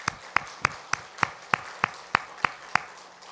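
A church congregation claps in unison, about ten sharp, evenly spaced claps in a steady rhythm at moderate loudness, with no talking over them.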